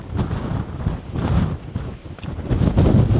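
Gusty wind buffeting across an exposed Lake District fell near Sheffield Pike, a rough, low roar that surges and eases in uneven waves without any voices.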